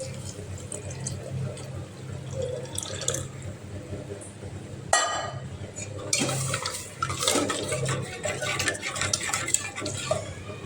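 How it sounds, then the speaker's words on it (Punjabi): Milk is poured into a cooking pot on a gas stove in a home kitchen, a liquid splash and gurgle that rises midway, with metal utensils clinking and a voice speaking over it. "ਹੁਣ ਦੁੱਧ ਪਾ ਦਈਏ ਇਹਦੇ ਵਿੱਚ"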